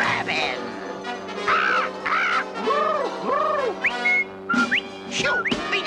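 A cartoon bird call mimicking a yellow-breasted sapsucker's mating song, played as a lure for a pigeon: a run of looping whistles and squawky, caw-like chirps in quick bursts, loud and close.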